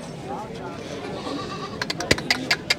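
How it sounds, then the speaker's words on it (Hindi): A black goat on a goat farm bleats in a few short, sharp cries near the end, over steady background chatter and farmyard noise. "एक बढ़िया काली में बकरी।"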